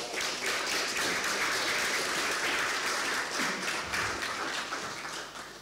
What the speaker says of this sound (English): Big hand of applause for all of these guys.